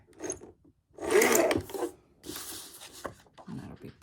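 A strip is cut from a sheet of Atelier Des Art paper, producing rough scraping, rasping bursts at close range with short pauses between them.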